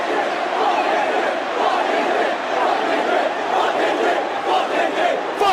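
A large concert crowd at a show chants and roars together in a loud, dense wall of voices that swells rhythmically throughout.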